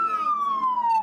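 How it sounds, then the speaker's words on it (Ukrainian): A police patrol car siren: a steady tone slowly gliding downward in pitch, loud and close, with a faint hum of background noise beneath it. "Сирена, до котрої ми усі звикли."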